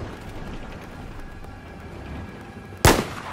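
A single loud, sharp sniper shot from Battlefield 4 cracks out near the end of the stretch, breaking through a steady bed of battlefield rumble and distant gunfire.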